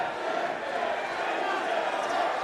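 A boxing crowd at a live bout urges on a fighter with a steady, dense roar of shouting and cheering voices, while a commentator talks over it.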